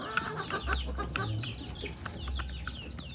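Rhode Island Red breeding hens clucking close by, a busy run of short, overlapping clucks and calls from several birds.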